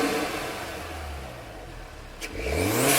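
A Hyundai Kona N fitted with a Torqcon cold air intake revs up, its engine note climbing and swelling after a steadier stretch, close and fairly loud with no voices.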